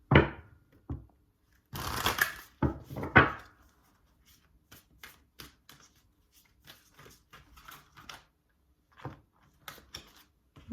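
Oracle cards being shuffled by hand, a few brisk riffling bursts near the start followed by scattered soft taps and card slaps, close and quiet with no talking.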